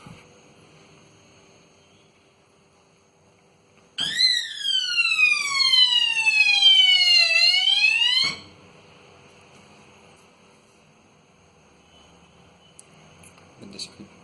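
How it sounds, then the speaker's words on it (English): An anti-theft automatic door alarm blares a loud electronic siren for about four seconds, its sweeping tone gliding downward, then cuts off abruptly; quiet room sound surrounds it. "So when door will get open, siren will be turned on."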